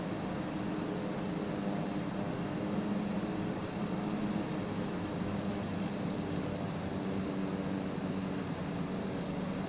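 A small airplane lined up on the runway on landing approach: a steady, even drone of engine and wind noise heard from inside the cabin, with no talk.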